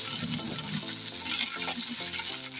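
Ginger garlic paste fries in a pan with a constant sizzling hiss while being stirred, with soft scraping and bubbling close by and no talking, for a Bengali fish bhuna.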